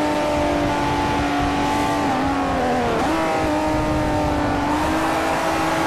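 A Saleen S5S race car in Forza 4 roars continuously at high revs, its engine note wavering and dipping briefly through gear changes, loud and close throughout with no talking.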